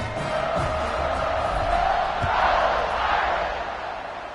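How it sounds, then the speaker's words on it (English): Football stadium crowd in a college football video game, a broad continuous roar of cheering that swells and fades slightly, loud and steady, with faint commentary underneath. "this crowd is feeling themselves after that last drive"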